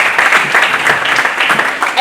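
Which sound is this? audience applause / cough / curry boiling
audience applause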